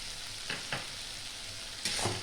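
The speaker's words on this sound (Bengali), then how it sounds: "এইটাও 1 মিনিট একটু কষিয়ে নেব" Mustard and poppy seed paste with spices frying in a pan for rui fish shorshe jhal, a soft steady sizzle with a few brief spatula scrapes, close but fairly quiet.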